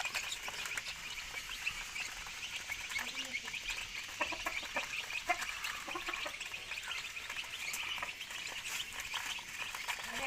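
Young chicks peck and cluck softly and continuously while feeding, a busy scatter of small calls and taps under steady low background noise.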